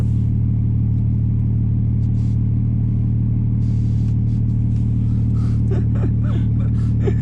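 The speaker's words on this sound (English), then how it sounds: "Can you just brake boost and hold it for a second to see what RPM goes?" A big-turbo 2020 Toyota Supra holds a brake boost with a loud, steady droning engine note and deep rumble, constant and close throughout, with faint bursts of other noise later on.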